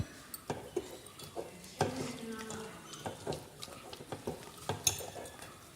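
Fish pieces for a vaala (ribbonfish) roast are rubbed by hand with salt and salt powder, giving soft wet squelches and intermittent clinks against a bowl, fairly close and irregular, with no talking.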